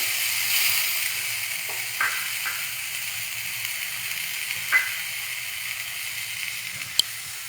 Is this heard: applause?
no